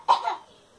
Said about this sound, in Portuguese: Dá uma tossidinha pra mim ver.